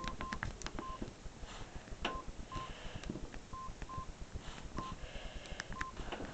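Samsung T401g mobile phone keypad tones while typing a web address: short beeps tapped at an irregular pace, faint under a steady hiss of background noise.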